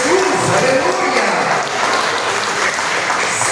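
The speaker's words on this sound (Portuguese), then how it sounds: "Agora eu convido a igreja a dar a mais forte salva de palmas ao Senhor Jesus." A church congregation applauds loudly and steadily in a sermon service, dense clapping filling the room from start to finish, with voices and cheers faintly mixed in.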